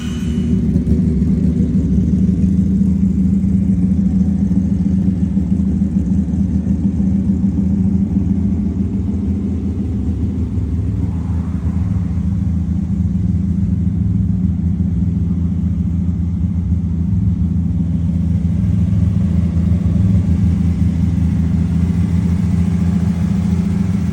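A machine polisher buffs the clear coat on a car's paint. It gives off a constant loud, low droning hum that runs unbroken through the whole stretch, with no speech.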